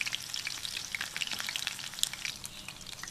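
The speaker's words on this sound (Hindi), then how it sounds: "इसे हम 10 मिनट एक साइड से फ्राई करेंगे और 10 मिनट अगली साइड से फ्राई करेंगे। इसे हम हल्की आग पे फ्राई करेंगे" Chicken tikka pieces fry gently in a pan over a low flame, giving a soft, continuous crackling sizzle with scattered tiny pops and no voices.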